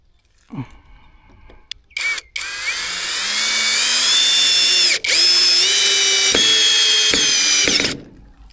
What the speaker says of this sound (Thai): ทดลองเจาะเสาไม้บ้านนะครับ แน่นอนว่าเป็นไม้เนื้อแข็งนะครับผม